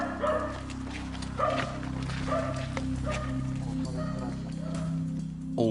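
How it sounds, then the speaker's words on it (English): A neighbour's dog near a large villa in Calabria barks at police officers, giving repeated short woofs mixed with whimpers and yips at a moderate distance. "they come to the attention of the neighbor's dog"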